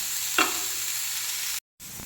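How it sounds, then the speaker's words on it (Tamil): Soya chunks sauté in a pan with a steady, close sizzle, one brief clink of a spoon against the pan partway through and a short gap of silence near the end. "அது ஒரு பக்கம் வதங்கிக்கிட்டு இருக்கட்டும்"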